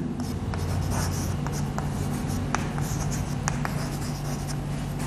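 Marker or chalk strokes on a board sound in a quick run of short scratchy taps, heard close over a steady background hum.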